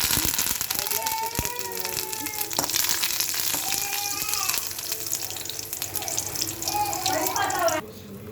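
Dal tempering with cumin and curry leaves frying in hot oil in a pan, a bright continuous sizzle with spitting crackles that runs throughout and cuts off abruptly near the end.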